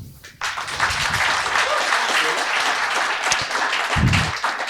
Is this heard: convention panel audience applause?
yes